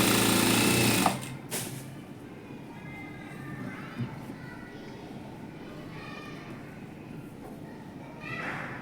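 A sewing machine runs fast, stitching a straight seam with a half-inch margin on an Ariwork blouse. Its loud whirring burst comes first, then a steady hum continues under a voice.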